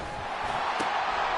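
A football game crowd on third down sends up a steady, broad wash of cheering and noise that holds at an even level for the whole clip, with a brief louder burst partway through.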